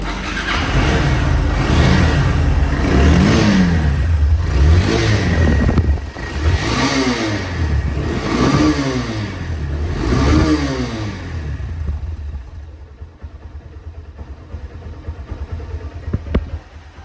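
A Honda Hornet double-disc motorcycle engine runs close by and is revved repeatedly in a regular rising and falling pattern, then settles back to a quieter idle for the last few seconds.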